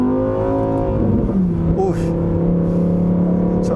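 A 640-horsepower Lamborghini Huracán EVO in Corsa mode gives a loud, close engine drone that swells and rises in pitch as it revs on track.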